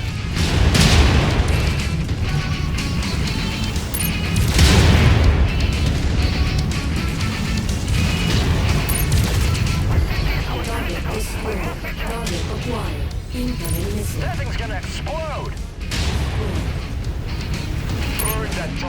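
Missile explosions booming repeatedly in MechWarrior 5 mech combat, loud low-end blasts at intervals under continuous battle noise and a synthetic cockpit voice announcing targets.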